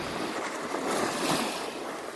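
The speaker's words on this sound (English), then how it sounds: "Magnificent morning here by the beach." Ocean waves wash in at a beach on the York Peninsula at sunrise, giving a steady, broad hiss of surf that swells slightly midway, with no talk.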